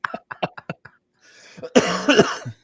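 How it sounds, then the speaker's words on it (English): A person coughs in a series of short bursts, then lets out a louder, harsher cough fit with throat-clearing near the end, close to the mic with no one talking. "forgive the coughing, you guys"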